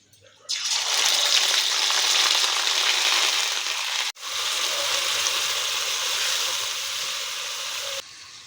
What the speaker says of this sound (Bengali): একটুখানি সামান্য গরম হয়ে গেলে আমরা এর মধ্যে দিয়ে দেবো পেঁয়াজ বাটাটাকে দিয়ে দেবো এর মধ্যে।